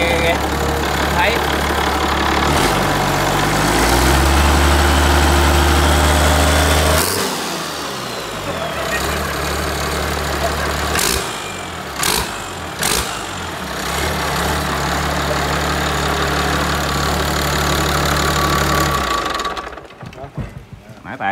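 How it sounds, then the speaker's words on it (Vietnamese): A motor runs steadily with a low hum while loose iron pieces rub and rattle inside the machine, the tone shifting partway through, with a few sharp knocks and talk over it before it cuts off near the end. "Mấy miếng sắt nó cọ vô á"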